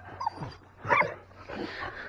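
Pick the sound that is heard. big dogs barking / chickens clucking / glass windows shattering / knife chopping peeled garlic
big dogs barking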